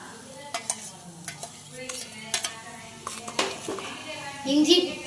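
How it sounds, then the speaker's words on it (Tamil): Metal utensils stir and clink against a kadai while ginger garlic paste sizzles faintly in oil, with sharp scraping taps scattered throughout. "கடாய் காஞ்சதுக்கு அப்புறம் இஞ்சி பூண்டு பேஸ்ட் போட்டுக்கலாம்"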